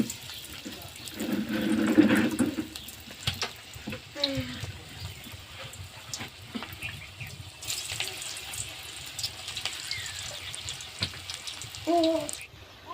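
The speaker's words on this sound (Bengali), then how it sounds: "উল্টে পাল্টে লাল লাল করে ভেজে নিচ্ছি" Cabbage pakora balls deep-frying in oil give a soft, low bubbling sizzle throughout, with a louder burst early on and scattered clinks and scraping as they are turned.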